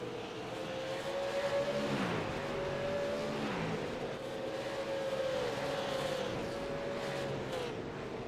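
Super late model race cars roar around the Nashville Fairgrounds oval in a continuous, loud engine drone that rises and falls slightly as the pack circles, with no voices over it.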